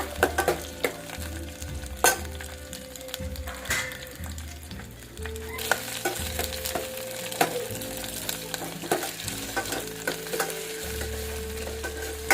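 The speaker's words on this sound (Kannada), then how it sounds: "ಬೆಳ್ಳುಳ್ಳಿ ಸೇರಿಸ್ತಾ ಇದ್ದೀನಿ. ಚೆನ್ನಾಗಿ ಫ್ರೈ ಮಾಡ್ಕೊಳ್ಳೋಣ." Garlic sizzling and frying in a pan for obbattu saaru, with repeated stirring scrapes and utensil knocks over a continuous close sizzle.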